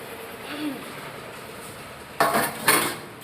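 Dishes, pots and pans clatter during morning washing, with two brief bursts of metallic clinking and scraping nearby against a quiet, steady room background.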